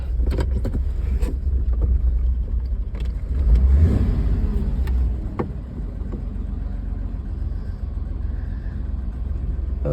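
A 1973 Mercedes 280C gets its first drive in 30 years. Its engine gives a steady, fairly loud low drone with road rumble, swelling briefly a few seconds in, and no one speaks.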